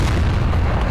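A tank's heavy cannon fire in Garry's Mod aimed at animatronics, a loud, close, booming blast with a deep rumbling low end that fills the whole moment with no voices.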